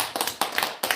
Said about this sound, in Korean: 그래 우리 사랑이 박수 한번